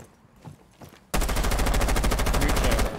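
Rapid, sustained automatic gunfire in Rainbow Six Siege on the Oregon map, a loud burst of evenly spaced shots starting after a quiet moment and continuing steadily to the end.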